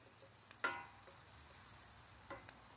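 Onions sauté quickly in a pan for Guyanese-style channa, giving a faint steady sizzle with a couple of short utensil scrapes and stirs, no speech.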